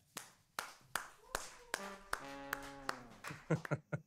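Nearby single hand claps in a slow, steady rhythm, roughly ten sharp claps spaced evenly, with a voice talking over the later ones and a few quicker claps at the end.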